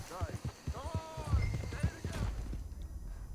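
A horse in Red Dead Redemption 2, its hooves clip-clopping in an uneven trot with a brief snort, under someone talking over the game audio.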